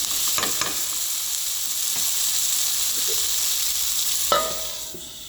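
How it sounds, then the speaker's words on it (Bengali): Chicken with onions cooking slowly in a pan over low heat, a continuous soft sizzle and hiss with a few faint stirring taps and one brief clink near the end; no voices. "আর এইভাবেই হালকা ফায়ার স্লো করে আপনারা পেঁয়াজের সাথে চিকেনটাকে ধীরে ধীরে করে কুক করবেন"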